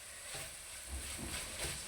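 Guar beans and potato curry are stirred in a pan, giving soft scraping and faint sizzling that rise and fall in brief strokes, quiet and close.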